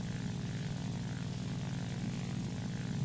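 Steady, droning hum of the M-82 radial engine and propeller on an I-185 fighter in the War Thunder video game, heard alone with no talk and constant loudness throughout.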